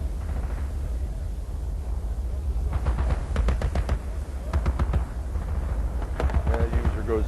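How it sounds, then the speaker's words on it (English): Simulated gunfire in a virtual reality scenario: rapid bursts of shots starting partway through, heard over a steady low rumble of ambient noise. "get gunfire."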